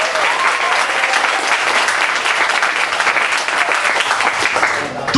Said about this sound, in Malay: kita bagi tepuk tangan tuan-tuan.